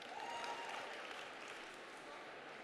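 Applause from an audience at a festival stage, a fairly faint, even wash of clapping held for a few seconds, with a hint of voice over the top at the start.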